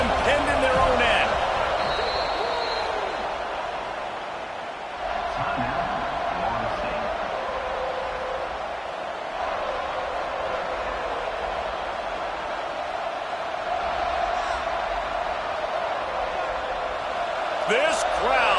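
A college football stadium crowd at Georgia Tech versus Florida State roars steadily as a broad, loud wash of noise, swelling near the start and end, while a commentator talks over it.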